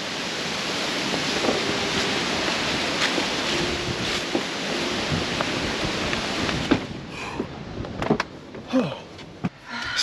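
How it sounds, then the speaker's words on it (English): Strong wind on a rocky mountaintop trail at Queen Wilhelmina State Park, Arkansas, roars and buffets the microphone for most of the clip, easing near the end into gusty rustling and a few close knocks. "so windy here"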